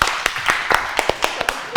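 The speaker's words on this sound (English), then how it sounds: "Give a clap to them." Audience applause for contestants on a Ramadan quiz show in Toronto, a scattering of sharp, irregular claps ringing out fairly close for about two seconds.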